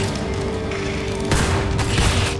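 Weapon fire in the sci-fi shooter Red Faction: Armageddon, with bursts of sharp blasts in the second half over a steady humming tone and continuous background rumble.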